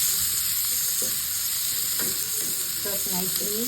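Garlic and onion sizzle steadily in hot oil for Filipino chicken sisig, with occasional stirring scrapes and a brief spoken remark over the constant close frying hiss.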